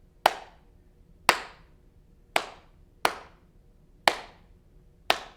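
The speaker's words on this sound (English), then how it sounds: "I'm just clapping." Six sharp, clear hand claps in a slow, even beat during a children's music lesson, each crisp and close with quiet gaps between.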